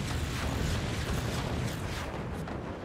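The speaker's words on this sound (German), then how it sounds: "Die 20mm ist wieder durchgeladen." A 20mm cannon reloads in the strategy game Forts: a steady, dense mechanical clatter and grinding with faint ratchet-like creaks, running continuously at even loudness with no voices.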